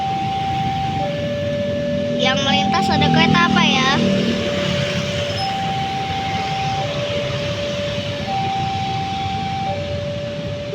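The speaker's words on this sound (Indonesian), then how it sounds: "Ini sirine baru lagi ya?" New warning siren at railway level crossing JPL 154 Cimindi on the Bandung commuter line, a two-tone alternating electronic wail repeating steadily over roadside noise, with a person briefly talking partway through.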